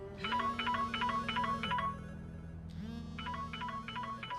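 A telephone ringtone chirps in two repeating bursts of warbling electronic trills, separated by a short gap, loud and alone in an indoor scene from a Turkish TV drama.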